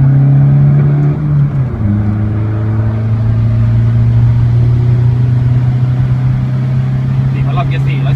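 A remapped 2005 Toyota Vigo pickup engine holds loud, steady revs up close with a strong droning tone. The pitch dips once early, then stays level to the end.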